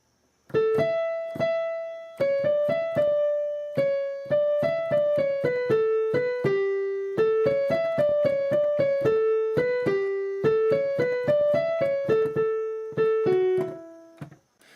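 A slow, lyrical melody of plucked-sounding notes played one after another in a steady rhythm, clear and close, with no voices: the ancient Greek Epitaph of Seikilos.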